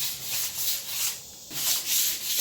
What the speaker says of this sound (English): Just sand on it really easy until you get it smooth